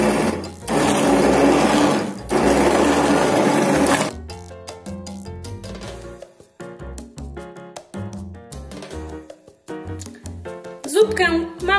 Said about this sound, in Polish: Ja użyję do tego najprostszego blendera ręcznego.